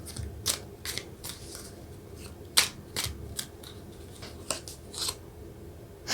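Tarot cards being shuffled and drawn up close, giving a scattered series of crisp snapping flicks and riffling slides with quiet gaps between them and no talking.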